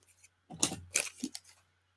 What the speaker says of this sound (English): take my scissors and,